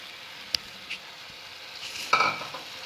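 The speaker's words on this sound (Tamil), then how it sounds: "இப்போ புளிக்கரைசலை சேர்த்துக்கிடலாம்." Tamarind extract goes into a pan of melted jaggery on the stove with a soft sizzle and faint stirring, a couple of isolated taps early on and a brief louder splash and scrape toward the end.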